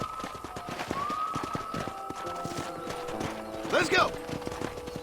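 Horse hooves trot in a steady clip-clop rhythm across the ground in the western video game Red Dead Redemption, with a voice calling out over the hoofbeats.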